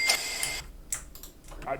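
A cash-register ka-ching sample rings out bright and metallic within an electronic dance track, with a short chiming burst at the start and scattered synth hits trailing after, all fairly close and up front.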